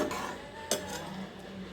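A ladle scrapes and clinks inside a metal pot of banana stem kootu, with one sharper knock partway through, close and fairly quiet.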